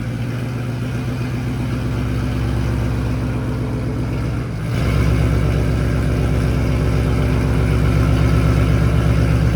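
A 2017 Ford Mustang GT 5.0L V8 with headers and a Borla ATAK exhaust idles, a deep steady burbling rumble up close with a slight bump in level midway.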